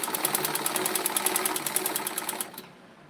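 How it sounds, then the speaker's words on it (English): Sewing machine stitching a peplum blouse, a close, rapid, even run of needle strokes that stops abruptly near the end. "I'm still sewing."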